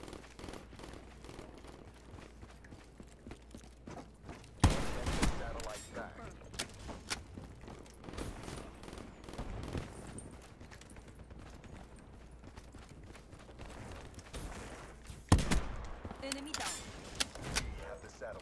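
Shotgun blasts in Black Ops 3 on the Olympia DLC map: two loud, sharp booms roughly ten seconds apart, with quieter game noise and someone talking in between.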